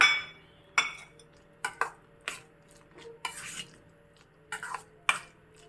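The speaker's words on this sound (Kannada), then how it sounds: "ಚೆನ್ನಾಗಿ ಒಮ್ಮೆ ಮಿಕ್ಸ್ ಮಾಡ್ಕೊಳ್ಳೋಣ" Raw banana mash being stirred with curd in a bowl, giving a sequence of irregular soft squelches and clinks of a spoon against the vessel, close and fairly quiet with pauses in between.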